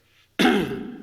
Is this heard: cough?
yes